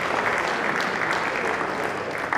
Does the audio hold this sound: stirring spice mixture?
no